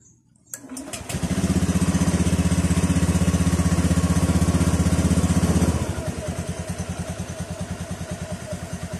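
A motorcycle is started on a homemade LiFePO4 32650 battery pack. A click is followed by a loud, rapid starter-driven crank and roar, which settles into a steady pulsing idle.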